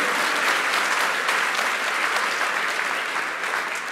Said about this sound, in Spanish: Vamos a darle un fuerte aplauso al Señor que llegue al cielo.